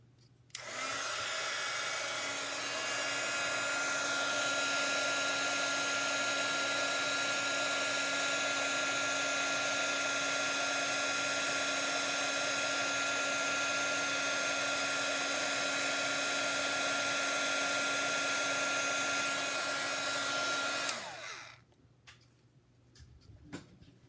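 An embossing heat tool melts heat-and-stick powder, a loud steady blowing whir with a thin tonal whine that runs close for about twenty seconds and then cuts off, leaving quiet with a few small clicks.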